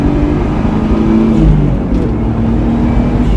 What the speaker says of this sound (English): I'm gonna give it a little gas here.